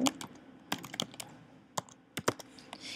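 Code being typed on a computer keyboard during a robot motion configuration lab tutorial, irregular bursts of close, crisp key clicks with short pauses between them, no talking.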